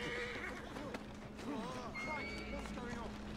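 A horse whinnies twice in Assassin's Creed Syndicate amid clip-clopping hooves and horse-cart street noise in Victorian London, with game sound effects and chatter around it.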